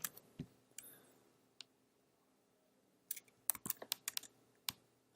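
Quick, light keystrokes tap on a computer keyboard: a few scattered clicks early on, a pause, then a short rapid burst of typing, all faint and close in a quiet room.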